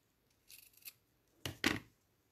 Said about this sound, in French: Je vais couper mon